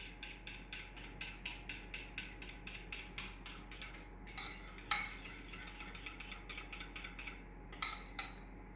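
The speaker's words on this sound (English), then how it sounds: "while you're stirring, you're going to add in your Psyllium Husk" A spoon stirs a thickening psyllium husk mixture in a bowl, a faint and steady series of scraping clinks repeating about twice a second, with a couple of sharper knocks.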